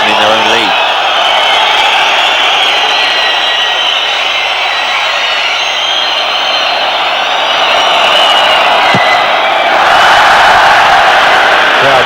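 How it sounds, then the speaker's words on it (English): A football crowd at the 1996 UEFA Cup match between Olympique Lyonnais and Nottingham Forest keeps up a loud, steady roar of jeers and whistles, swelling further near the end. "Crowd jeering Crossley a little there for some time wasting"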